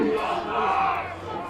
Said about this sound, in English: Got a great crowd here in attendance.